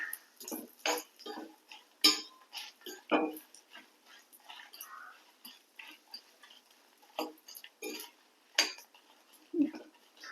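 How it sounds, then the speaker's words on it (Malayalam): Spices and dried red chillies dry-roast in a pan without oil, heard as intermittent metallic scraping and clinking of a spatula against the pan in short, uneven bursts separated by quiet gaps. "ഇനി നമുക്ക് ഇതൊക്കെ പിന്നെ എണ്ണയില്ലാതെ വറുത്തെടുക്കാം"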